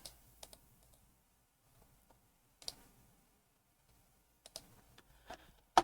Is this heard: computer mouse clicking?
yes